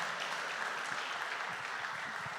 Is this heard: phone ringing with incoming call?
no